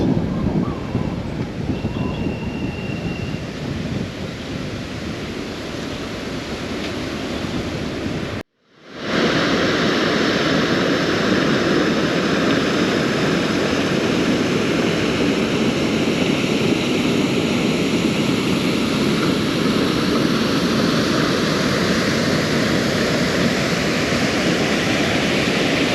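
Andiamamuruka waterfall in Ranomafana National Park, Madagascar, pours with a constant loud roar of rushing water, broken once by a brief cut to silence before the steady torrent resumes.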